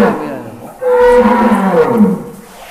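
A tall, long-bodied contest bull of about 1.3 tons moos once, loud and close: a deep drawn-out bellow that swells, holds for over a second, then fades, with no talk over it.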